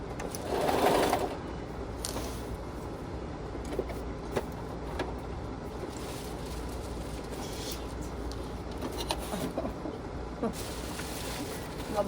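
A sewing machine stitches insulated curtains for a homemade campervan, running in a steady close mechanical whir with small pauses and slight speed changes throughout.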